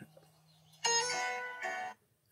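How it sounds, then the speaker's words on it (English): A short electronic alarm tone rings twice in close succession, bright and buzzy, after a quiet lead-in with a faint hum. "my alarm to go to work"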